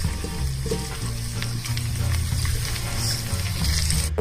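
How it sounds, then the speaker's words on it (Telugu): Cut pieces of dhokla dropped into a hot tempering of oil and spices in a pan, giving a steady close sizzle with soft stirring and scraping, no talking. "ఇప్పుడు పోపులోకి మనం కట్ చేసుకున్న డోక్లాని పెట్టేసుకోవాలి"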